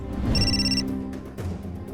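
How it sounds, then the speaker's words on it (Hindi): A telephone bell rings once in a short electronic burst, fairly close and loud in an indoor setting from a Hindi TV drama, then fades into low room noise with no voices. "आकृति का फोन आया था"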